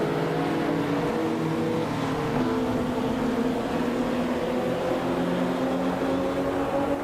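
Race cars drive at Oran Park in a racing video game, a steady droning chorus of engines with layered, shifting pitches, loud and continuous without letup.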